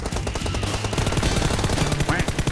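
Gunshots in the mobile battle royale Game for Peace: dense, rapid automatic fire crackling continuously over a busy game soundscape with background music, fairly loud throughout.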